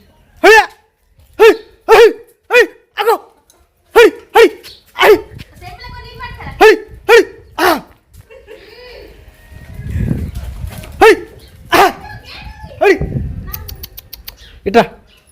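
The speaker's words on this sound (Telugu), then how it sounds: "కుక్క లోపలికి ఎట్లా వచ్చింది" A dog barks in a quick run of sharp, close barks, then falls quiet while people talk and move around; a few more barks come near the end.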